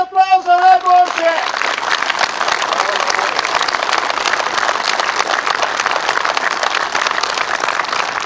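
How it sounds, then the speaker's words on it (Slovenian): Applause at a Slovenian Army logistics brigade ceremony honouring the best non-commissioned officer, following a short spoken command and then filling the space as dense, sustained clapping from a large gathering. "Brigada, en aplavz za najboljše!"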